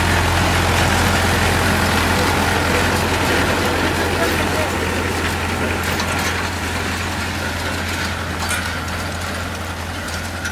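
An HMT 6522 tractor running without a turbo drones loud and close with a steady, deep engine rumble and a constant low hum, as voices talk nearby over it.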